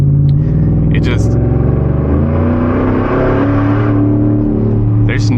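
A supercharged 5.0 V8 truck engine gives a deep, loud rumble with a throaty exhaust note that swells and revs, close by, with brief higher whooshing hisses.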